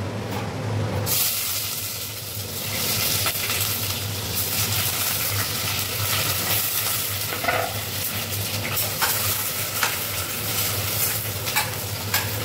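Onion, green chilli and bay leaf frying in a couple of spoons of oil, a steady close sizzle and crackle running throughout with occasional stirring clinks, no voices.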